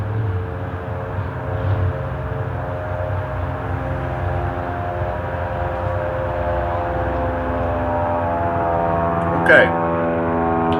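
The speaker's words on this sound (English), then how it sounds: "Being outside, I am subject to the whims of airplane noise." Steady broadband drone of an airplane passing overhead outdoors, continuous and moderately loud through the whole stretch, with a brief spoken word near the end.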